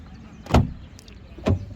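Two dull thuds, like a car door or nearby vehicle, over a low background rumble of roadside traffic.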